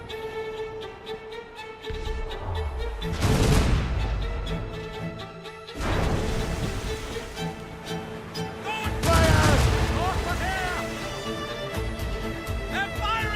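Ship's cannons and gunfire in Assassin's Creed Rogue boom out in a few big, rumbling blasts spaced seconds apart, with crackling shots and voices among the din.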